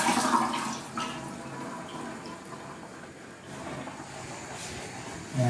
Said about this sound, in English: first we wash the broccoli